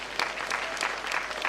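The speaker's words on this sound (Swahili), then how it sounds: "tupige makofi kwa wazazi wetu" Applause for parents at a memorial celebration of life, a steady burst of many hands clapping close by with dense, even rhythm.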